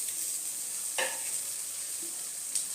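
Chilli powder, Kashmiri red chilli and chopped tomato fry in a pan for a Bengali prawn and raw jackfruit curry, giving a steady soft sizzle with a couple of light stirring scrapes and no talking.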